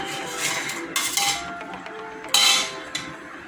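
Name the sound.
fish being put into a cooking pot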